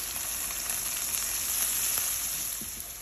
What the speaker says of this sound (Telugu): వేసుకొని బాగా ఫ్రై అయ్యేలాగా కలుపుకుందాం.